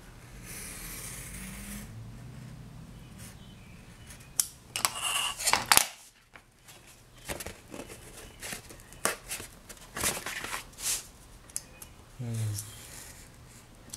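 Card being cut for a folio with a spine and pockets: quiet, crisp cutting strokes and paper handling, irregular and close, with brief sharper snips partway through and soft rustling between.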